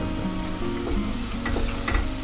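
Ground spices and added water frying for a Goa-style South Indian prawn curry, sizzling and bubbling steadily throughout with small spattering crackles, close and fairly loud, with no talk.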